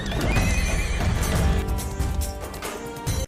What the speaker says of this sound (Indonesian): melihat kuda salah satu pedagang asal Timur Tengah lepas dari tuannya